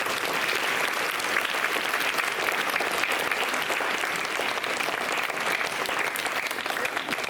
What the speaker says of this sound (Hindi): जोरदार तालियां स्वागत सर का।